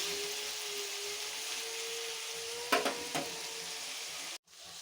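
Koi and shing fish half-frying in a pan for a potol curry give a steady close hiss of oil, with a couple of brief clatters near the end and a momentary drop in the sizzle.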